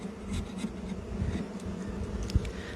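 Steady insect buzzing of honeybees droning around an open hive during an inspection, continuous and fairly close, with a brief soft knock near the end.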